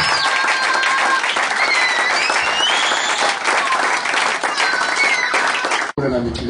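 A church congregation in Kinshasa's Makala district breaks into sustained, loud clapping and cheering, with high whistle-like cries over the crowd. The applause cuts off abruptly near the end, leaving a brief, quieter tail.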